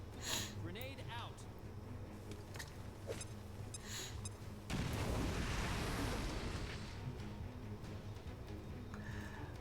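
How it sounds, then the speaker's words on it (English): An incendiary grenade goes off in the tactical game XCOM: Chimera Squad, a sudden loud whooshing burst of flame that roars and slowly fades under game sounds, with a person talking before it. "Let's advance and start with our incendiary grenade."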